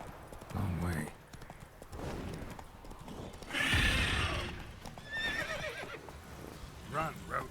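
Roach, a horse in The Witcher 3, gallops with clip-clop hoofbeats and gives a loud whinny midway, with someone talking over the hooves.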